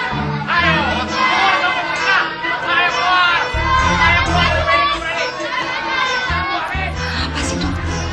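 A crowd of apartment-block residents shouts in protest, with loud overlapping voices and chanting that rise and fall in a dense, noisy din.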